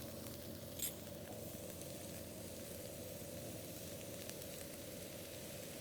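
Rice tossed in a pan with leftover curry paste and stir-fried carrots, giving a steady soft sizzle and patter that continues under the stirring without a break, close and moderately loud.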